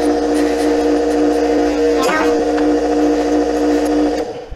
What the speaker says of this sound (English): This is my red rouge, and then this is my white buffing wheel